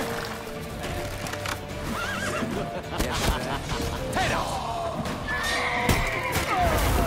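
A horse in The Witcher 3: Wild Hunt gallops with quick clip-clop hooves and lets out several loud whinnies, mixed with crashing thuds and layered game sound while a player talks.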